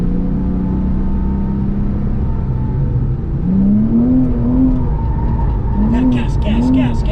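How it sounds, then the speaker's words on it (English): A car slides around a skidpad with wheel spin, its engine droning and then revving up in repeated rising pulls, while people talk over it throughout. "We were doing a slide and you had the steering still in, right? With wheel spin."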